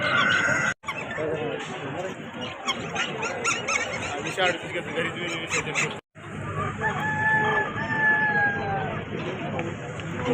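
Busy poultry stall at an agricultural fair in Kolhapur, with repeated loud calls and clucking from several birds, including guinea fowl and chickens, while people talk nearby.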